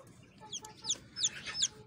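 A newly hatched native chicken chick peeps in quick, high-pitched chirps, about five in a row, close by against a soft background.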